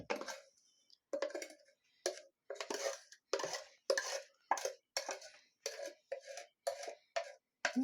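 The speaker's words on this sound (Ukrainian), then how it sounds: "тепер змішуємо до білків, додаємо жовтки" Egg yolks being mixed into whipped egg whites for a sponge cake, heard as about a dozen evenly spaced stirring strokes against the bowl, each a short, close, fairly loud scrape separated by brief silences.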